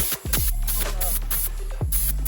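A spray can applies corrosion protection to the wheels-covered underside and hardware of a Harley Fat Bob motorcycle, giving a steady close hiss broken by brief pauses between bursts.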